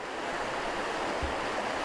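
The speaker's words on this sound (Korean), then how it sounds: "물소리 좋다." River water flows steadily in Yeongdong, North Chungcheong, a dense continuous rushing wash that stays loud and even throughout, with no voices over it.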